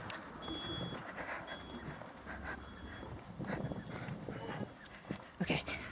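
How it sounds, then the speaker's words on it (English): A Kuro Neko delivery truck on a street in Japan sounds repeated reversing beeps, thin high tones pulsing near the start amid shuffling, clopping street noise and brief rustles. "Kuro Neko delivery truck."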